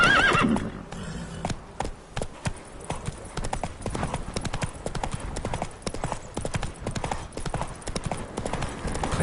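A horse in the video game The Witcher gallops with rapid rhythmic hoofbeats and neighs once near the start, with loud game ambience and no talk.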